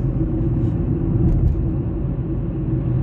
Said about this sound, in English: you might be able to tell it's a diesel